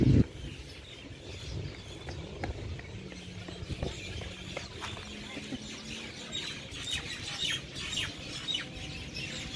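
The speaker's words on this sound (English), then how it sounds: "Can you hear the birds?" Birds chirp in a park, their scattered high calls faint and intermittent over steady outdoor background noise.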